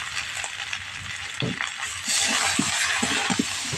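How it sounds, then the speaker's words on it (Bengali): Cauliflower and potato with salt and turmeric are stir-fried in a pan: a continuous close sizzle with intermittent spatula scrapes and clinks that grow busier and louder partway through, with no speech. "নুন আর হলুদ দিয়ে খুব ভালো করে কপি আলু কষিয়ে নিচ্ছি মশলার সঙ্গে।"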